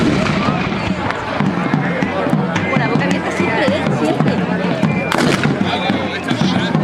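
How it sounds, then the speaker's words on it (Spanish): Cannon fire at an outdoor reenactment of the Battle of Bailén, with repeated sharp booms and cracks over continuous crowd noise and someone narrating in Spanish throughout. "siguieron los cañones, a pesar de ello, haciendo fuego."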